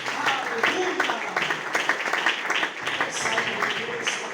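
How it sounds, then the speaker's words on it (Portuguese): Church congregation clapping in praise during a worship service, rhythmic hand claps blending with voices and singing, moderately loud and continuous in a reverberant hall. "Pode louvar a Jesus com palmas."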